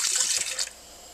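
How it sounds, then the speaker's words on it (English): Water poured out of a bowl of rinsed white rice, a short splashy rush of liquid that falls off quickly to near silence. "just fill up the bowl with water and then I pour it out"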